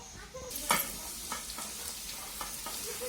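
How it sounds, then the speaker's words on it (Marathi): Onion sautéing in a pan for pav bhaji, a steady sizzle under repeated scraping stirs, with a louder clatter of the spoon against the pan early on, close and moderately loud. "आपण इकडं कांदा ते चांगलं कांदा चांगला परतून घेऊ"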